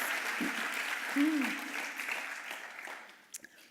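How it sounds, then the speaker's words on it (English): An audience at a State of the City address claps in a moderate, steady patter, with a brief voice rising over it partway through and a couple of sharper claps near the end. "Let's clap for the Lucity products."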